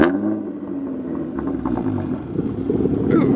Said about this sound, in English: Just rev it a little bit.